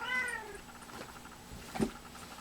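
A house cat meows indoors, one short clear meow followed by a fainter brief vocal sound, quiet and close with no talk.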